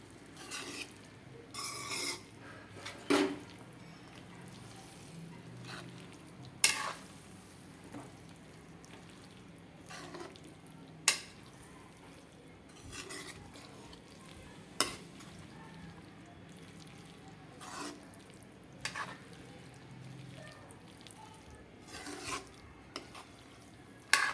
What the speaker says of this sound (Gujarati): આપણે જે તુવેર હતી તે બાફેલી બધી તે આમાં નાખી દીધી છે હવે એને મિક્સ કરી દઈશું